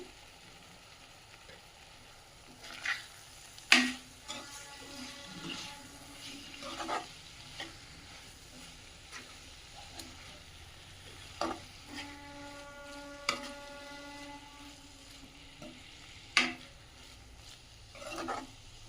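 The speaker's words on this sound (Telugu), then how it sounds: "వీటిని ఇప్పుడు చుట్టూ ఆయిల్ అనేది బయటకు వచ్చే వరకు ఫ్రై చేసుకోవాలండి" A spiced capsicum mixture fries in oil in a pan, a low soft sizzle under intermittent scraping and clinking of a spatula, with a few louder knocks against the pan.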